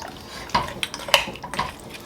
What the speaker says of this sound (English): just gonna stir it a bit.